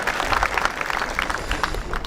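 An audience at a high school graduation bursts into brief, scattered applause, a short burst of clapping from a crowd in a large space.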